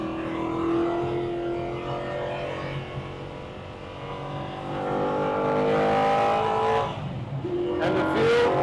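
A classic race car at speed around the Estoril circuit, its engine note holding a loud, steady high tone that rises and falls through a left-hander into a very fast right-hander, with a brief lift near the end.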